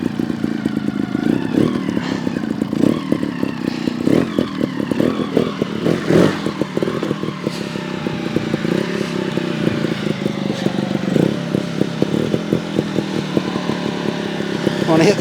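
A GasGas TXT 300 trials motorcycle on a backyard obstacle course runs with a choppy, pulsing two-stroke engine note, blipped and revved in bursts with some clatter, close by; a voice may speak faintly underneath.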